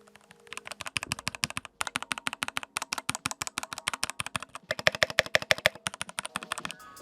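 A mechanical keyboard is typed on in its stock, pre-mod state, giving loud, crisp, rapid keystrokes in irregular bursts with brief pauses and a run of sharper clacks near the end.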